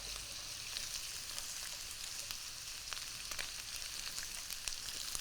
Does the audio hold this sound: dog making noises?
no